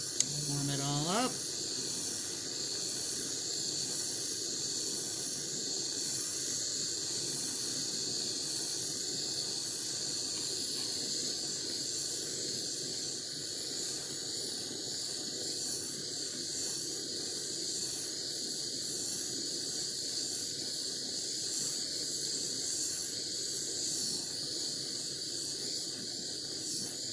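A jeweler's torch hisses steadily and evenly as it heats fine silver chain links to fuse them, a constant breathy rush from start to finish with no pauses.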